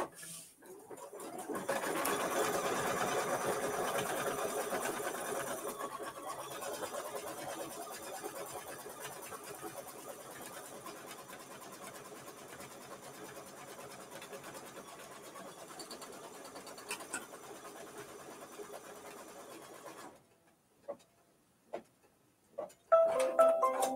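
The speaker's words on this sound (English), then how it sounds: "And now it's going to do the tack down for the background quilting." Single-needle embroidery machine stitching a tack-down line for background quilting on a mini-quilt with coordinating thread, a steady rapid mechanical whir that runs for about twenty seconds, then stops, leaving a few soft clicks.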